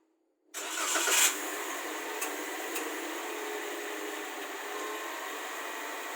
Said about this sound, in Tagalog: Start natin yung sasakyan